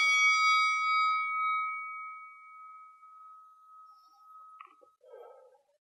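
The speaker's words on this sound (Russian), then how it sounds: "Тест метроном предупреждает меня о заканчивании моего времени." A single bright boxing timer bell ding rings out as a round signal during Shorinji Kempo martial arts training and sustains for several seconds before decaying, followed by faint quiet noises.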